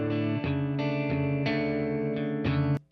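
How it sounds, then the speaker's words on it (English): A clean electric guitar plays a sequence of ringing chords, each new strum marked by a fresh attack, heard alone without other instruments or voices before it cuts off sharply. "So here is the sound of our clean guitar."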